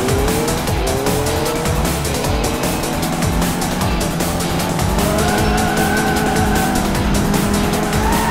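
Kart racing in Sonic & All Stars Racing Transformed on Xbox Series X: a loud continuous engine drone with squealing tire skid as the kart drifts, steady throughout with no talk.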